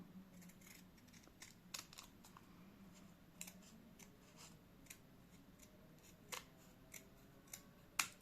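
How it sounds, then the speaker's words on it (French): Scissors snip paper while a three-panel pop-up card is made, with a series of quiet, sharp clicks spread unevenly over a soft background, close by and without speech. "Je pense que je vais couper mon chouïa d'écart"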